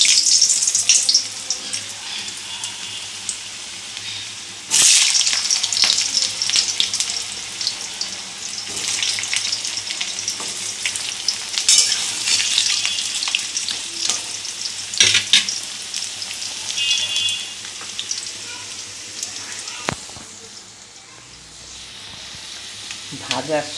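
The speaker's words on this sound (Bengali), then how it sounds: "লাল করে আলুগুলো ভেজে নেব।" Potatoes fry in hot oil for a tilapia curry with eggplant, a steady close sizzle with occasional stirring scrapes and utensil clicks that thins out near the end.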